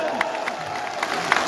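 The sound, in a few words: crowd applauding at a BNP rally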